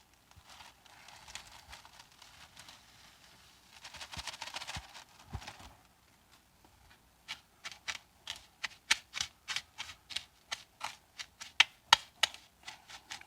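A plastic Ziploc bag holding leftover breadcrumbs is handled close up in a kitchen: soft crinkling and rustling at first, then a run of sharp, rhythmic crackles and snaps as the bag is pressed and sealed.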